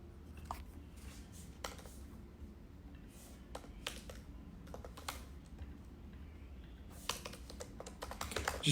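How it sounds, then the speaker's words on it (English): Quiet, irregular computer keyboard typing in short bursts of clicks with pauses between, close and soft over a low room hum, ending in a quicker flurry of keystrokes. "Just typing down this because this is a really important thought you just gave me."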